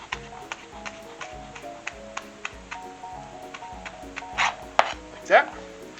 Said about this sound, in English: It's easier to do with the larger leaves, but man, just gonna chop it up. Chiffonade.